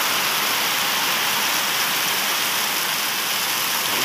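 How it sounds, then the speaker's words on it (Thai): Heavy rain pours down with strong wind, a dense, steady roar that stays loud and unbroken throughout with no voices. "ทั้งฝนทั้งลมนะครับหนักเลย"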